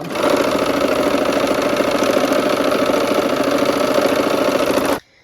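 Sewing machine running continuously as it stitches a quilt block, a loud, steady, fast mechanical whir and chatter close by that cuts off abruptly at the end.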